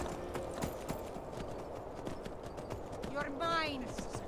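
A horse's hooves clip-clop in a steady walking rhythm in the video game Skyrim, fairly close, over a bed of ambient outdoor noise, with a brief whinny near the end.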